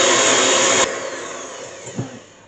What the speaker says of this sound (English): should be able to whisk the eggs without any problems